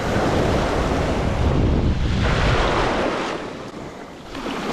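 Ocean surf churns and crashes steadily against the shore at Sanibel Island, Florida, a loud, continuous wash of breaking waves with heavy wind buffeting the microphone, the roar easing briefly near the end before swelling again.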